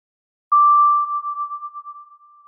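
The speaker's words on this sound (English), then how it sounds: "let's add a reverberated sine tone" A pure sine tone synthesized in Pure Data with added reverb: one steady mid-pitched beep starts abruptly, then decays with a wavering, fluttering reverberant tail, alone in silence.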